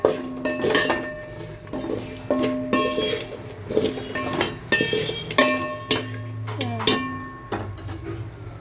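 A spoon stirs chicken fry masala with onion and green chilli in a metal bowl, clanking against the sides in repeated rhythmic strokes, close and clear, with a voice talking over it.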